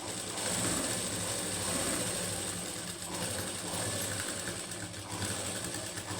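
A sewing machine runs continuously while stitching a blouse, a steady mechanical whirr and rapid ticking at close range without pause.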